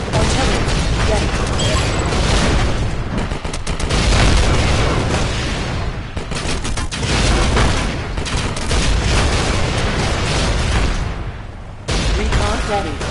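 Artillery fire in the VR arena game League of War lands as a run of heavy booms and crackling bursts in close succession, loud and dense, with brief game voice lines mixed in.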